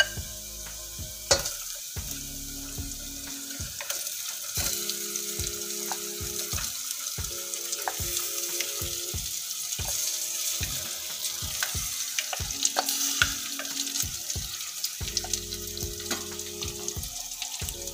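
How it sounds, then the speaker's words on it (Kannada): Marinated soya chunks and vegetables fry with onions for biryani while being stirred, with a continuous close sizzle and regular scraping and clacking strokes of a spoon against the pan. "ಇವಾಗ ಸೋಯಾ ಚಂಕ್ಸ್ ನ ಇದರಲ್ಲಿ ಒಂದು 5 ನಿಮಿಷ ಚೆನ್ನಾಗಿ ರೋಸ್ಟ್ ಮಾಡ್ಕೊಳ್ಳೋಣ।"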